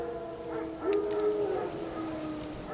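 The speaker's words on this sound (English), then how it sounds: "Wild dogs. Yes. More dangerous than wolves." Wild dogs howling in the video game The Witcher 3, a drawn-out distant howl with a few yips rising over quiet ambient wilderness background.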